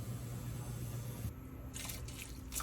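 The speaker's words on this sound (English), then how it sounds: "Cook the noodles and then rinse with cold water." Steady cold running water from a tap splashes into a sink as noodles are rinsed, with brief bursts of brighter spattering near the end, no voices.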